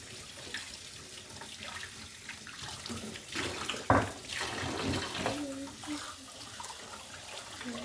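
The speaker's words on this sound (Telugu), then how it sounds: "కానీ ఇంకొంచెం సేపు దంచేసి కడిగేసి మళ్ళీ వాష్ చేస్తున్నాం." Tap water runs while a new stone grinder is washed in a home kitchen, a moderate splashing flow that is fairly quiet overall, with a sharper splash near the middle and some voices.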